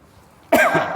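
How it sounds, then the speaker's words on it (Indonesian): A man coughs harshly and loudly, a short burst that starts abruptly after a quiet moment during an Islamic lecture, close to the microphone. "masih belum selesai batuknya"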